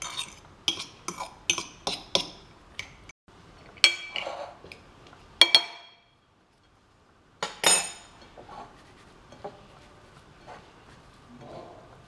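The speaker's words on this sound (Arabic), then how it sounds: "وتبقاي تخلطي هكا حتى نذوب الكميه اللي تاع الزبده" Couscous (barbousha) stirred with melting butter in a pot, heard as a series of sharp utensil clinks and scrapes against cookware, fairly close, with a brief pause and then softer rustling stirring; no talk.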